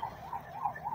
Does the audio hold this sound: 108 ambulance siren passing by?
yes